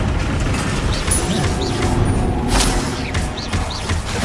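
Bombarda spell blasts in Hogwarts Legacy, a dense, steady roar of booming magical impacts and crackling bursts, with sharper flares of noise around the middle, continuous and loud with no talk.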